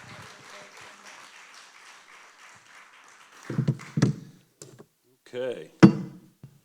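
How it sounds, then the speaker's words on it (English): Scattered applause from a small crowd at a community awards event, a burst of clapping that fades out, with a few louder claps and taps toward the end. "All that applause for him, I'm sure."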